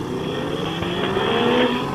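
A car engine revs and accelerates hard, pulling out to chase a Mustang at a motorcycle and car meetup; the engine drone is loud and close, rising steadily and continuing without any voices.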